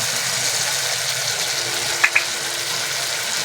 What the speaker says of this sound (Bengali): মশলাটা ভালো করে ভেজে নেবো